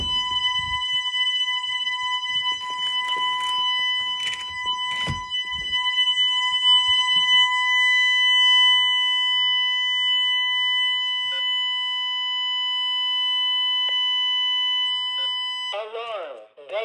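A home security alarm system under test gives off a steady, loud multi-tone electronic alarm that holds for about sixteen seconds, with brief clicks and knocks near the start and a warbling tone at the very end.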